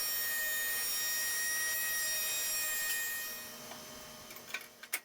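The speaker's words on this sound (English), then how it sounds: "I resawed the 8/4 boards in half and then planed them down to final thickness" Thick 8/4 hardwood boards are resawn and planed to thickness, a continuous high-pitched machine whine with a rough cutting texture that holds steady, then tapers off into a few sharp knocks at the end.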